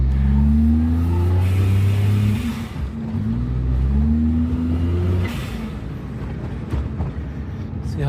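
A Suzuki Alto kei car's small engine revs through gears in a series of rising pulls, loud and close, then eases off into a steadier lower cruise hum.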